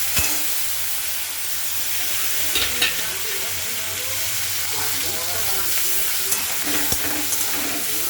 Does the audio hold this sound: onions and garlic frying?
yes